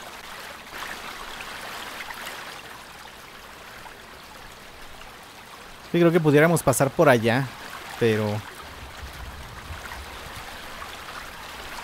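A river flowing in the off-road driving game Mudrunner American Wilds, a steady rushing water wash running throughout, with someone speaking briefly over it near the end.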